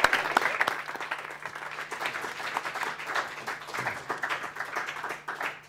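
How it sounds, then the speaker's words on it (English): An audience at a student guild presidential election debate claps after the event, a steady round of applause that keeps up unbroken for several seconds at moderate loudness. "Let's give the candidates a round of applause."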